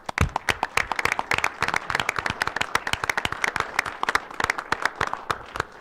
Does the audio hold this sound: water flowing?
no